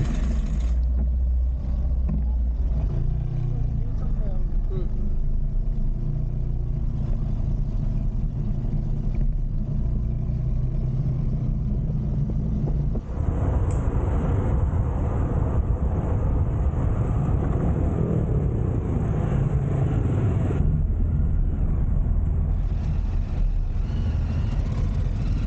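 A congested procession of cars, trucks and other vehicles crawls along during an anniversary rally in Aizawl, engines rumbling low and steady throughout, with a heavier, denser burst of traffic noise partway through.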